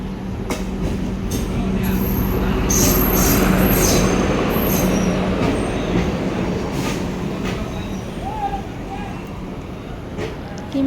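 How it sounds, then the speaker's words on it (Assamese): A crowded passenger train pulls into Amjonga station running late, its wheels rumbling and squealing against the rails in a loud, close, sustained roar, with people talking under the noise. "দেৰিকৈ ট্ৰেইনখন আহিলে।"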